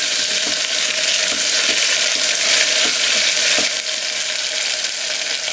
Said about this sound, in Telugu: ఈ స్టేజీలో టమాటా ముక్కలు వేసుకొని బాగా కలపాలి.